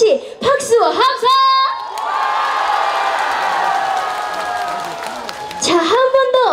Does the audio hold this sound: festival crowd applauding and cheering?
yes